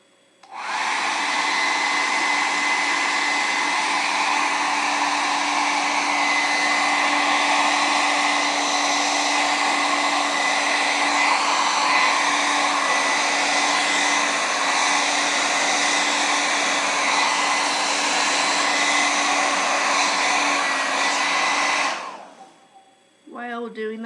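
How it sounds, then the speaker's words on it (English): A hair dryer blows steadily on the inside of a book cover to heat and soften the binding glue, a loud, even whine lasting about twenty seconds before it switches off. "Then flip it open and blow dry the inside of the cover."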